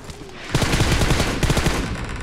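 Rapid automatic gunfire in the PUBG Mobile video game during a fight among shipping containers: a quiet start, then a loud close burst of fast, evenly spaced shots lasting about a second and a half.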